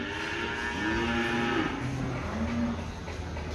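Cattle moo in a busy weekly cattle market at Gamping, Yogyakarta, several drawn-out lowing calls over a steady crowd murmur.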